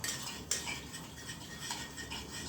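A utensil scrapes and spreads a butter, flour and molasses mixture across yufka dough in soft, continuous strokes, close by, with a light clink at the start.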